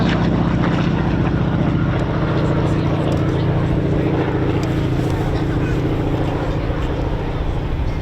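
Warbird aircraft, a Mustang and a Spitfire, make a final display pass at an airshow; a loud, continuous piston-engine drone with a low throbbing hum fills the whole stretch, steady and close.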